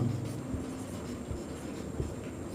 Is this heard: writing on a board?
yes